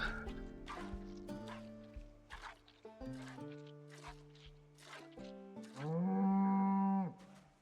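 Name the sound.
cow mooing in a video game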